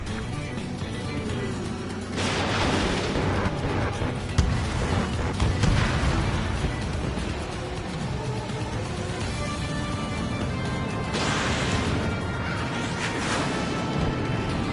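Missiles launching and explosions in the jet combat video game Ace Combat, a dense, continuous roar of engines and blasts with louder bursts swelling around the start and later on, lightly mixed with game voices.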